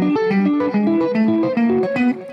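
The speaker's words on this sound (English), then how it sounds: "So the right hand is doing the pattern and the left hand is lifting the notes so they are separate" A guitar pattern played with pick and fingers in a lead style, each note lifted so it stands apart, forming a quick run of separate plucked tones with a slight distorted edge; close, steady and unaccompanied by speech.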